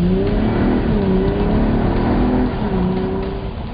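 A 2009 Mercedes-Benz SLK350 roadster at speed, its engine droning steadily with rising and falling pitch through gear changes, loud and close with continuous road and wind noise and no talking.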